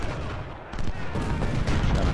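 Cannon and artillery fire in the Civil War strategy game Ultimate General: Civil War, a dense rumble of booming shots that thickens after a brief lull, loud and continuous.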